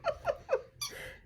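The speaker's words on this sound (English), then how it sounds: "my dog's here with a squeaky toy." A dog chews a squeaky toy indoors, producing three quick, high squeaks followed by a longer, wheezy squeal, all fairly faint and close.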